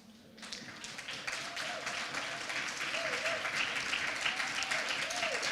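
Sustained audience applause breaks out during a speech on empowering women, rising quickly and holding steady as a dense wash of clapping from a crowd, with a few scattered voices calling out within it.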